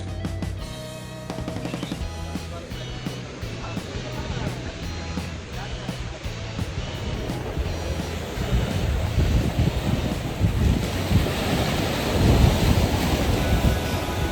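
Sea waves rolling onto a Cyprus city beach, a steady broad wash of surf that swells louder toward the end, with wind buffeting the microphone and some musical tones early on.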